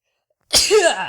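One abrupt sneeze breaks the silence, a sharp burst of breath with a brief voiced tail, close and fairly loud.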